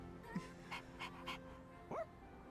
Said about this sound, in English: He's so sweet, doggy.